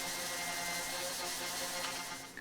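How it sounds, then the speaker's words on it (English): Sanding a cherry wood panel through finer grits, a steady, fairly quiet whirring rasp up close that stays even throughout before fading slightly at the end. "And here I step up through a couple more sanding grits so I can get it nice and smooth"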